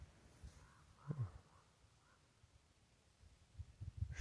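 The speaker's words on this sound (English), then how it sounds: "you can hear my crow crowing" A crow caws a few times somewhere out in the open, distant and faint against a low outdoor rumble, with more rustling and low noise toward the end.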